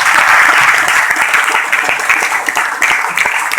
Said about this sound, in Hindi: तो एक बार जोरदार ताली आप लोगों की